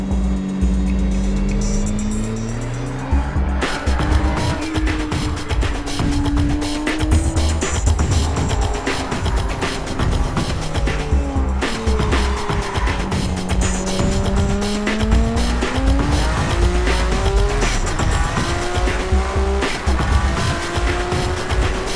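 A race car on semi-slick tyres laps a cold circuit. The engine is loud and close, rising and falling through repeated gear changes and passes, with tyre squeal under the motor and no talk.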